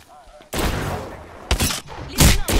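Loud bursts of gunfire in the shooter video game Apex Legends, several heavy volleys in quick succession after a short quieter start, with a player's voice faintly mixed in.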